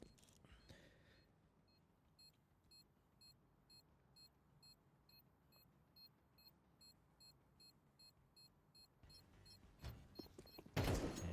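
A Counter-Strike bomb beeps in a steady, evenly spaced series of short high tones during an esports match, faint against low background noise, followed by a sudden loud burst at the end.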